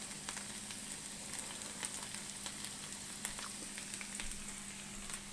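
Potato matchsticks frying in a pan, a steady close sizzle with crackling pops throughout and a faint low hum underneath.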